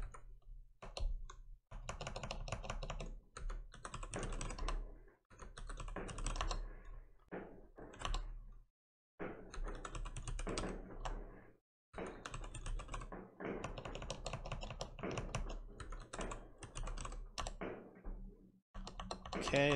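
Computer keyboard typing in bursts of quick, light clicks with short pauses between runs, close and fairly quiet, while a server is set up.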